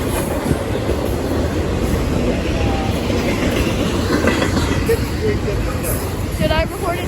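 A freight train with distributed power rolls past in Fullerton, a loud continuous rumble of wagons with rhythmic wheel clatter and occasional thin squeals, while people talk nearby.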